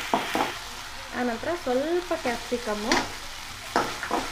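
Onion is stir-fried on high flame in a pan for cabbage Manchurian, with a steady sizzle and occasional stirring scrapes running beneath continuous talking.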